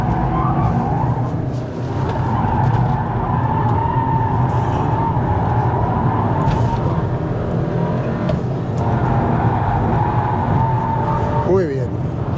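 A Cupra Leon 1.5 eTSI or 2.0 TSI accelerates and corners on a track, its engine droning loud and steady from inside the cabin, with brief tyre squeal near the end, while someone talks over it.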